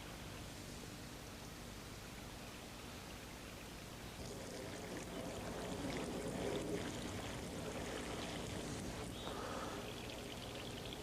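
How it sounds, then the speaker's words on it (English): Water poured through an improvised sock filter layered with charcoal, sand, moss and grass, heard as a faint, steady trickling hiss that swells in the second half and then holds, with no voices. "What we do now is pour the water through this and collect at the other end."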